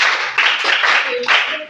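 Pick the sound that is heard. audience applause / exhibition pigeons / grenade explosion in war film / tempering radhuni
audience applause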